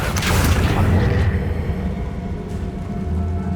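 Confringo fire spell blasting in the game Hogwarts Legacy: a loud, close boom with a burst of crackle at the start, then a lingering rumbling tail, under a faint voice.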